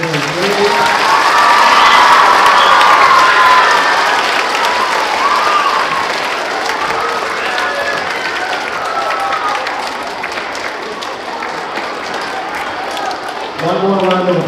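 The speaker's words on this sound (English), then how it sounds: "Let's give one more round of applause for your children." Sustained loud applause from an audience at an elementary school band day, a dense wash of clapping that holds steady for several seconds before tapering, with a voice returning at the end.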